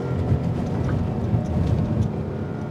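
A 5-litre sports car engine drones steadily from inside the cabin, a loud, low, even rumble that holds for the whole stretch.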